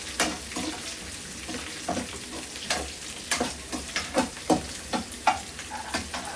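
Onions and mustard seeds frying in hot oil, a steady close sizzle broken by regular scraping stirs of a spatula against the pan.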